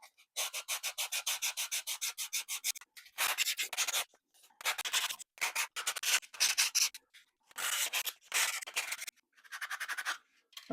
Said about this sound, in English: Take my sanding block and start rounding off these corners a little bit,